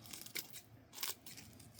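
Scissors snip through dried dandelion leaves in two crisp, close cuts with light crinkling of the leaves between them, quiet and with no voices.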